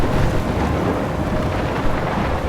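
A thunderstorm in the game Life is Strange: a loud, continuous roar of heavy rain and wind with deep rumbling thunder rolling underneath, steady throughout.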